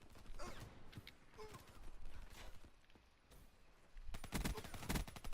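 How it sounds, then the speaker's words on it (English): Video game gunfire: rapid, scattered bursts of shots from several directions, dense and crackling, growing louder near the end, with faint talk underneath. "Getting shot by so many people."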